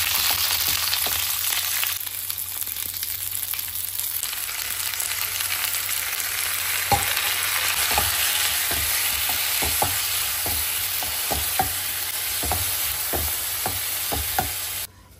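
Potatoes fry with black cumin and spices in a pan, producing a loud, continuous sizzle close by, broken by repeated scraping and clattering stirs that grow more frequent in the second half before stopping abruptly.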